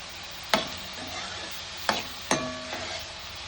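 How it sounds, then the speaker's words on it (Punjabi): Onions frying in a pan with a metal spoon scraping and tapping against it, three sharp clinks over a soft steady sizzle, close and fairly quiet. "ਲਓ ਜੀ ਆਪਾਂ ਇਦਾਂ ਹੀ ਚਮਚਾ ਦੇ ਹਾਂ ਇਹਨੂੰ ਚੰਗੀ ਤਰ੍ਹਾਂ ਪਕਾਉਂਦੇ ਰਹਾਂਗੇ"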